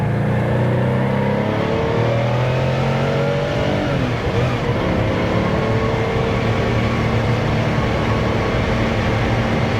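A fully restored 1970 Porsche 914-6 roars loud and close through a heel-toe downshift, engine revving hard and steady with a brief blip and pitch shift midway as it drops a gear.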